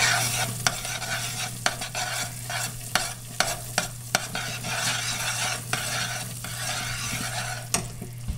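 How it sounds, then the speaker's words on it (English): Butter melts in a hot pan for peanut brittle while a spoon stirs it, tapping the pan in a steady rhythm over a continuous soft sizzle, close and without talk. "Drop in the butter. Stir it until it's completely melted."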